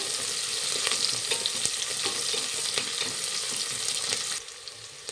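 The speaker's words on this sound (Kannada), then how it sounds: "ನೋಡಿ, ಈರುಳ್ಳಿ ಇನ್ನೊಂದು ಸ್ವಲ್ಪ ಫ್ರೈ ಆಗಬೇಕು." Two chopped onions frying in oil for vegetable pulao, a dense close sizzle with quick stirring scrapes that drops off sharply near the end.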